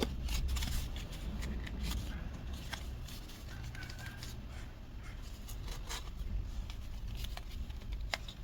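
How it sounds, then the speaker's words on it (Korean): Scissors snip repeatedly at a round crocheted yarn pompom, trimming it into shape; soft, close cutting sounds come in quick, irregular strokes at low volume, with a little rustling of yarn and no talk. "가위로 모양을 잘 다듬어 주시면 돼요."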